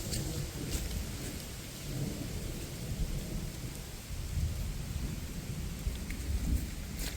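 A thunderstorm rolls over a humid forest in the Sipsey Wilderness, with steady rain hissing on leaves and low rumbling thunder building and fading, no voices.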